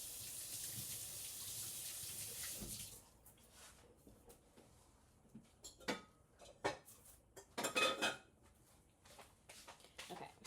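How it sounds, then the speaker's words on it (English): Water runs from a kitchen tap over hands for about three seconds, then cuts off, followed by scattered clinks, rustles and handling knocks nearby. "I'm gonna wash my hand real quick."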